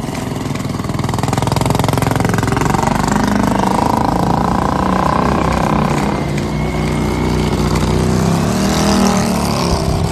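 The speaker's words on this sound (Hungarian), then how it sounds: "Kicsit köhögött ez a motor." A car engine pulls hard up the Stelvio mountain pass, a loud, continuous close drone with rising and falling revs and a rough, uneven sputtering edge.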